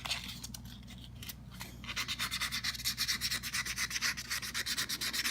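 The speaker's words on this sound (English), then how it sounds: "take your 600 grit sandpaper and you try to roll the part as you go" A plastic part's mold lines are rubbed down with 600 grit sandpaper: soft scraping at first, then a fast, even run of raspy back-and-forth strokes, close and clear with no talking.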